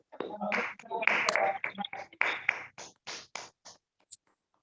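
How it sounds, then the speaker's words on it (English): Participants in an online meeting applaud the winners, their unmuted claps arriving as uneven, compressed bursts that thin out and stop after about four seconds. "give all the winners a good round of applause"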